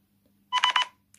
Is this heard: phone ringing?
yes